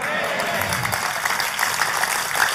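A church congregation claps steadily in dense, continuous applause, close and loud throughout, with crowd noise and faint voices mixed in.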